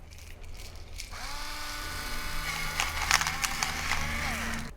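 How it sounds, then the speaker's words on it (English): A spice grinder set to coarse grinds steadily for several seconds after starting about a second in, with a whirring, buzzing tone and brief scratchy crackles, close and moderately loud. "I like the fact that you just turn it over, it starts grinding"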